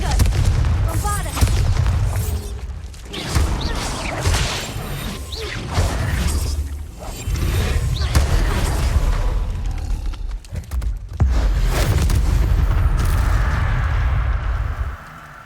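Bombarda explosion spell blasts in the wizarding game Hogwarts Legacy, a run of loud, deep booms and crashes spread across the scene, interleaved with brief quieter gaps and some voice activity.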